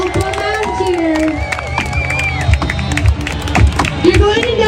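A festival crowd of onlookers cheers and shouts for lumberjack competitors chopping blocks, a steady roar of voices with thudding axe strikes coming through beneath it.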